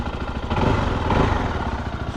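A Zontes 310X motorcycle idles after three months of winter storage, a steady, close mid-pitched engine chug with a faint mechanical clatter and no talk.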